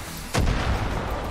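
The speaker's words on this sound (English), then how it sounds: "I'm gonna get my pistol back out. Boom." A single pistol gunshot fires in the Far Cry 5 video game, a sharp loud crack at the start followed by a sustained rumbling tail of reverberation.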